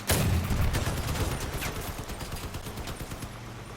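Repeated cannon blasts from a combat vehicle in the Mad Max-style game Crossout, a loud burst of heavy booms at the start followed by a rapid stream of shots that taper slightly in loudness over several seconds.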